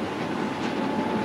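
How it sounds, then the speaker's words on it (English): Electric train passing, a steady broadband rumble and rush of rolling wheels on track, continuous and fairly close, with no voices over it. "If you look over here, you'll see some transport that runs on electricity only."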